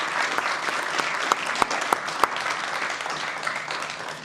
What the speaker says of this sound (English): A round of applause while our cast and winter animals return to their seats.